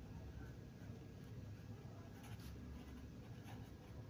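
Someone writes an answer during a maths lesson, with faint continuous pen-on-surface scratching under a dense, steady background rumble.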